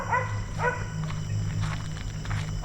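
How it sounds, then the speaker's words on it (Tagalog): Two quick, sharp dog barks close by at the start, followed by scattered rustling and background noise. "Doggy! May aso."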